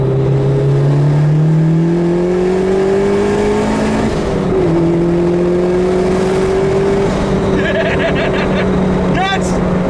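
Boosted B20B-swapped 1995 Honda Civic EJ coupe accelerating hard, heard from inside with the windows open: a loud, close engine note climbs steadily in pitch, drops briefly at a gear change near midway, then climbs again.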